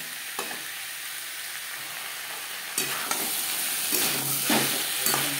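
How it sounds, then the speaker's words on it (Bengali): Peeled, chopped potatoes stirred with spices in a hot pan for a Bengali chela fish curry, giving a steady sizzle with scraping stirs that grow louder and busier in the second half. "মশলার সাথে আলু বেশ ভালো করে মিক্স করে দেবো।"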